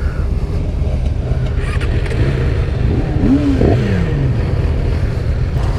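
A 2017 Yamaha R6 motorcycle engine cranks up and revs, a loud, close rising and falling engine note over steady wind-like noise, without speech.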